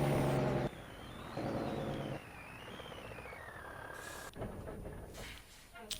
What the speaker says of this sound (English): Makes truck noises.